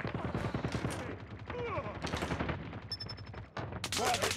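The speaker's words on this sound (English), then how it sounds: "Sentry gun deployed." Deployed sentry gun in Call of Duty Mobile on Standoff during a Hardpoint match, rattling off rapid automatic bursts amid busy game effects, with voices calling out over the gunfire.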